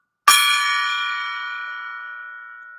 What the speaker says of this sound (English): I got to ring the golden gong.